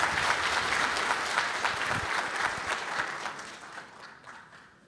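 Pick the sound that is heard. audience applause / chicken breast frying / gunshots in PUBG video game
audience applause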